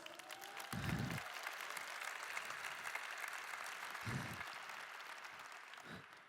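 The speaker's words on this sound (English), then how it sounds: "Can we clap it up for my homies?" Faint, steady audience applause at a talk, a soft continuous patter of clapping heard from a distance, with a few low thumps breaking through.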